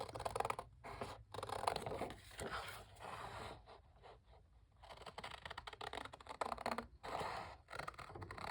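Scissors cut paper in short, scratchy snips and slides, close and steady, with brief pauses between strokes and no talking.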